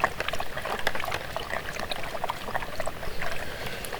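Water is poured out for dogs during a hike, a faint, continuous trickle and splash with small irregular bursts throughout.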